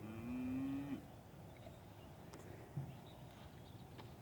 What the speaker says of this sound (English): There's still a few cows over there.